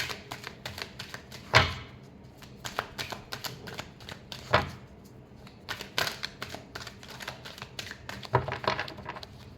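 Tarot cards are shuffled in quick, irregular bursts of crisp riffling and slapping, close and fairly quiet, with a few sharper taps standing out and no talking.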